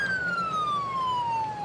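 A police siren in the video game GTA 5 wails in one long, steady falling tone, loud and close, with a low road rumble underneath and no talking.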